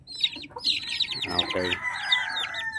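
Young chicks and chickens cluck and chirp close by in a short burst of overlapping high calls, with one brief spoken word.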